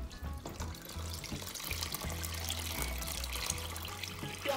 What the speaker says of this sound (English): Why don't you pour the violet water into the sugar?